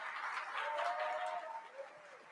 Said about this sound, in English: Give yourselves a round of applause for being here this morning.